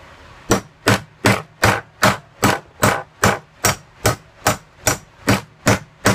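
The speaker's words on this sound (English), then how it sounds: "Hammer it down." Sharp metallic hammer blows drive a coupler onto a sprue extender in a steady, even rhythm, about fourteen evenly spaced hits, close and loud with nothing else around them.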